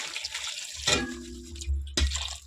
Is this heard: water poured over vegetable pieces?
yes